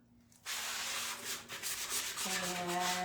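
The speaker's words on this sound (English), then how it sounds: "so if a person can hold this, they can work on sanding" Steady, close scratchy rubbing of sandpaper on an old wooden chair, continuous strokes with a faint tonal hum underneath.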